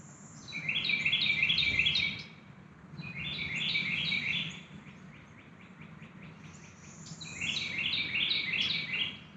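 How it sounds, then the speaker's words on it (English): Birds calling in the woods of Silver Springs State Park, repeated bursts of high chirping trills coming and going in waves over a faint insect hum, with no voices. "You can hear the birds and stuff."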